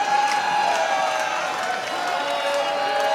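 A Vancouver crowd at an Apex Wrestling match between Nick Price and The Mighty Lokombo roars in a dense, sustained wash of cheering and shouting that stays loud throughout.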